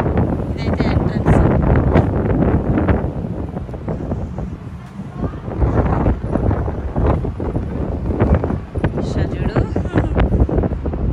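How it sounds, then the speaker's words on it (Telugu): Strong wind buffets the microphone in a multi-level car park at a shopping mall in Kuwait City, a loud continuous rumble with gusts throughout, while people talk over it. "గాలి బాగా వస్తుంది"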